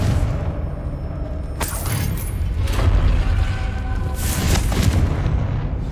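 Fiery blasts from the Confringo spell in Hogwarts Legacy on PC, two loud booming bursts with a crackling, shattering tail over a rumbling background.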